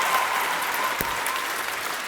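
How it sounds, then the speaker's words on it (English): Live audience at a comedy debate show, the 33rd Annual Great Debate, bursting into steady, dense applause that holds at full strength for a couple of seconds. "Just saying that woman's name gets an applause"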